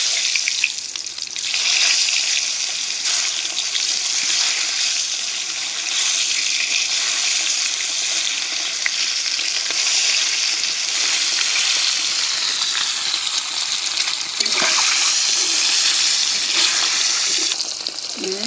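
Eggs fry in a pan of oil with turmeric powder, chili powder and a dried red chili, giving a steady, loud, close sizzle that hisses continuously with small crackling bursts throughout, no voices.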